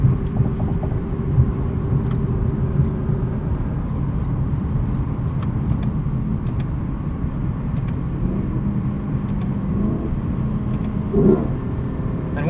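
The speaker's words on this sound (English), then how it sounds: "It really has a fantastic exhaust note. Kind of a combination between induction and exhaust." 2018 Lexus LC 500 with its V8 exhaust and induction note, heard from the cabin as a steady deep rumble that holds an even level throughout with no talking.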